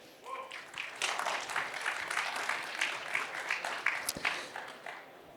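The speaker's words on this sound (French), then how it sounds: "je vous demande de les applaudir s'il vous plaît" An audience applauds panelists at a conference on mountain communication with scattered, moderate clapping that rises quickly and carries on unevenly for several seconds, with a voice briefly under it.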